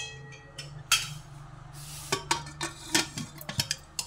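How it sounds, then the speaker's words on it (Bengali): Pressure cooker lid being fitted and closed over lentil dal with bottle gourd and bitter gourd, a series of close, sharp metallic clicks and clanks, scattered through the second half. "এবারে প্রেশার কুকারে মুখটা আমি ঢেকে দিয়ে"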